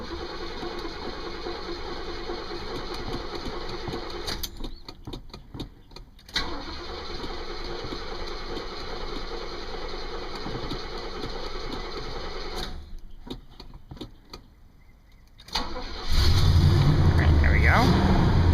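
A 1972 Oldsmobile Delta 88 with a mechanical fuel pump cranks through a couple of long starter bursts separated by pauses, then catches and settles into a loud, steady idle close by.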